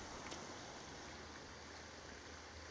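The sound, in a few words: waterfall in video game Sons of the Forest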